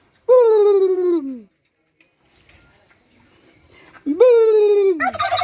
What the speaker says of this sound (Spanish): Y los guajolotes.